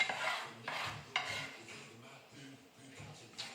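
A knife cutting sausage into chunks about two centimetres long for rougail saucisse, producing soft, close slicing strokes and a few board taps at uneven intervals, fairly quiet.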